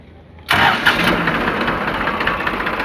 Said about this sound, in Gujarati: battery self start